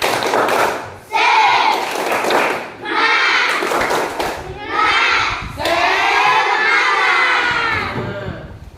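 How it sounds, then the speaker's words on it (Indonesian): Schoolchildren in a morning class perform the tepuk semangat clapping chant, loud bursts of shouted chanting and rhythmic claps in several phrases with brief pauses between, the crowd of young voices close and energetic. "Tepuk semangat dulu. Tepuk semangat."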